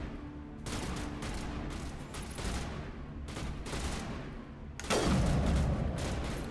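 Gunfire in Mass Effect as a player shoots at a rock: sustained rapid bursts of automatic fire with brief pauses, then a louder, denser volley near the end, all close and without talk.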